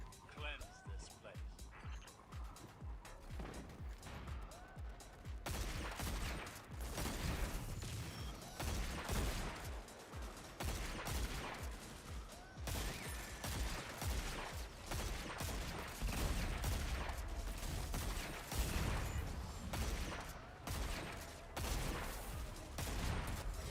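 A Destiny 2 weapon fires steady repeated shots in rapid bursts across the whole stretch, sitting under near-continuous talking.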